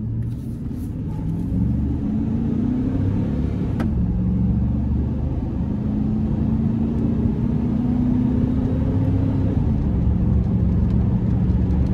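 A 2001 Chevrolet Silverado 1500 LS extended cab pickup with a 5.3 V8 pulls away after a U-turn, its steady low engine rumble climbing in pitch through the gears, heard from inside the cab with no talking.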